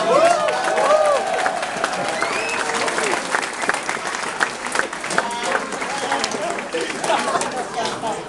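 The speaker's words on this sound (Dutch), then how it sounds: "Nog eenmaal een applaus." A crowd at a Forum voor Democratie political gathering in a hall in Rotterdam applauds loudly and cheers. Sustained clapping runs throughout, with shouts and whistles rising above it and voices mixed in.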